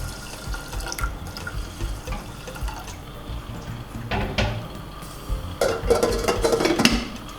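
Water runs and splashes into a pot of beans in a Nigerian Nupe kitchen, a steady close pouring rush with a few metallic knocks of the pot.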